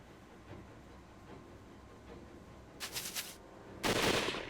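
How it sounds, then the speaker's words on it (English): Gunfire volley in the visual-novel game Hakuoki: Kyoto Winds: a quiet stretch gives way to a quick rattling cluster of shots, then a louder, fuller burst near the end, with no voices. "A second volley of gunfire rattled through the air."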